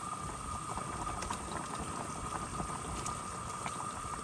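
Fish curry broth bubbles at a steady boil in a pan, a constant soft, hissing burble at moderate distance with no talking.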